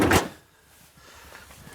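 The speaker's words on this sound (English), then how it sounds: "Let's close the door." The side door of a Ford Transit camper van conversion shuts with a single close, loud thud at the start, followed by a faint rattle and quiet room tone.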